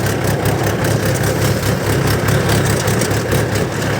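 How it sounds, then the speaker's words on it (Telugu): A water supply motor pumping to tanks runs with a loud, steady mechanical hum and a constant low drone, close by and unbroken throughout. "ఇదే మోటార్, సప్లైయింగ్ మోటరు"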